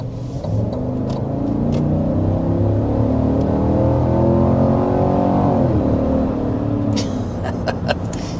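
A 2025 Cadillac Escalade's V8 engine accelerates from inside the cabin, a loud smooth rumble rising steadily in pitch through the gears, with a few faint clicks near the end.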